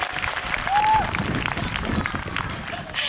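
An audience claps at an outdoor film festival talk, a dense burst of applause from a crowd that carries on steadily, with a faint voice rising briefly through it.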